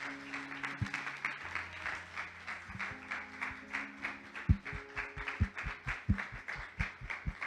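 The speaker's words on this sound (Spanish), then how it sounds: "¿Puedes darle un aplauso a Dios por su palabra?" Congregation at a Sunday church service applauding, a moderate, uneven patter of hands with a few sharper close claps standing out, over a sustained low musical drone in the background.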